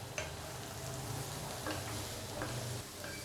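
A spoon stirs a long bean stir fry, Kerala-style payar thoran, in a pan over low flame, with faint scraping strokes over a steady soft sizzle.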